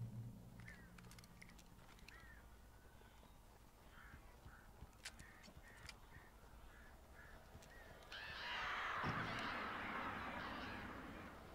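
Birds call in the game Alan Wake, a scattered series of short, strained caws over a low ambient rumble, fairly faint, before a louder rushing, fluttering swell takes over near the end.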